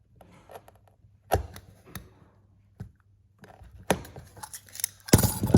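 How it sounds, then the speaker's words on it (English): Stanley knife cutting through a self-adhesive LED strip, a few sharp isolated clicks and scraping slices separated by pauses, close and fairly quiet. "I'm going to use a Stanley knife to try and make it as accurate as possible to go between the scissor marks."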